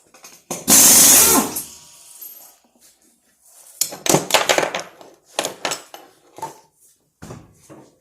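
A power tool rattles and clanks with metallic impacts, removing a front wheel from a Jeep XJ during a control arm install. A loud burst comes first, followed by scattered close metallic clatters and short tool bursts.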